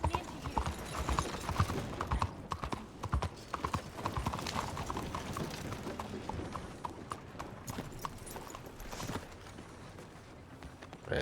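Steady hoofbeats of a horse clip-clopping at a walk in the Red Dead Redemption II video game, continuous and fairly close, with game music and other sounds underneath.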